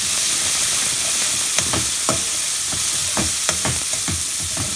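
Cauliflower and peas fry in a pan, giving a steady loud sizzle with repeated scraping strokes from stirring that become more frequent partway through, close up and without talking.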